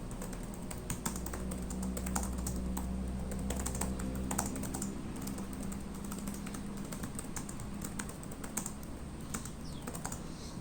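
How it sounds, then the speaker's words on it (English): Rapid typing on the island-style keyboard of a 2020 Lenovo Legion 5 laptop, a continuous quiet patter of soft key clicks at close range, with no voices. "So I'll give you a typing test of this right now."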